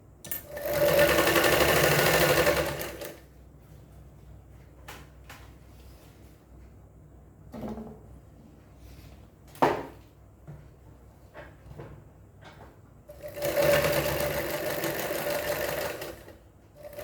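Sewing machine double stitching a school uniform: a fast, steady mechanical whirring for about three seconds, quiet handling clicks and taps, then a second run of whirring stitching, close and clear with no talking.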